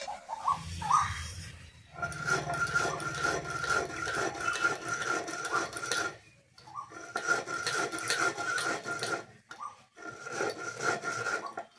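Sugar being ground to a fine powder in an electric grinder: a harsh, rasping whir runs in three long bursts separated by short pauses, close and steady, with no voices.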